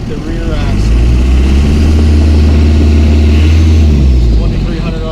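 Turbo diesel engine of a 1965 International Harvester Scout 80 crawler with twin transmissions and one-ton axles, droning loud and close with a steady low rumble as it pulls in creeper gear, swelling then easing slightly.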